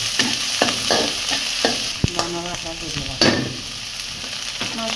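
Spice paste sizzling in hot mustard oil while a spoon stirs and scrapes the pan, with clanks of utensil against metal and bursts of crackling, close and fairly loud, no talking.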